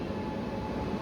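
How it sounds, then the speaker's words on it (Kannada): Bengaluru–Mumbai train 16553 is shunted onto a platform, heard as a steady low rumble of rolling stock, continuous and fairly loud for the brief moment with no distinct clanks. "ನಮ್ಮ ಒಂದು ಪ್ಲಾಟ್ಫಾರ್ಮ್ಗೆ ಸೆಂಟಿಂಗ್ ಮಾಡ್ತಾ ಇದ್ದಾರೆ ಈ ಟ್ರೈನ್ನ."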